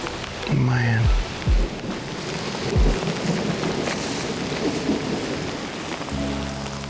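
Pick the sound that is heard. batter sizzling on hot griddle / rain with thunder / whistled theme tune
rain with thunder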